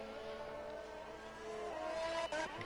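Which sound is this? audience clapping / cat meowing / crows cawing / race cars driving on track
race cars driving on track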